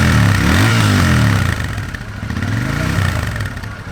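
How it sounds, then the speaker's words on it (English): A Royal Enfield Interceptor 650 twin with a 270-degree crank runs close by, a loud, uneven off-beat idle thrum with a slight blip of the throttle partway through, heard alone. "this 270-degree crank does give this motorcycle a unique sound,"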